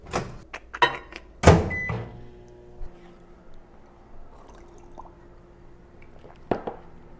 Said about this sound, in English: throw it in the microwave for 2 minutes